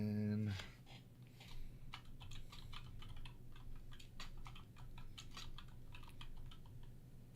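Computer keyboard typing during a Witcher 2 gaming session, a steady run of close, quick keystrokes in uneven bursts over a low background hum after a brief louder opening.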